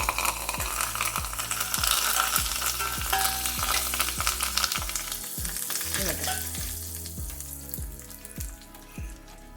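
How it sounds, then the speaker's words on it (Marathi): Spices, urad dal and curry leaves crackle and sizzle in hot oil for a tempering, a busy close-up spitting sound over a steady rhythmic mechanical ticking in the background. "मस्त कडक फोडणी."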